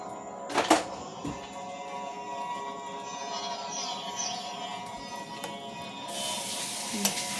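Noodles with green beans and mushrooms are stirred in a hot pan, a steady sizzle with soft scraping through the whole stretch and a few sharper clatters of utensil against metal.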